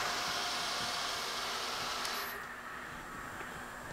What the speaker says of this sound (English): We'll turn on the spindle.